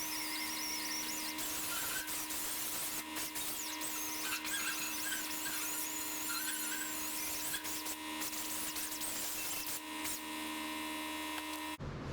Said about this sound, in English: the wire brush with like a 33-degree angle on it. But they work real good for stripping paint